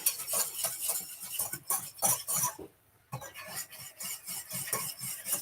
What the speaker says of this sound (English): Medium heat, and we're just going to whisk away.